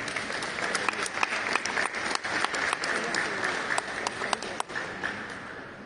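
Audience applause at a ceremony receiving a traditional art and crafts collection, steady dense clapping from a crowd throughout, fairly close, with no talking.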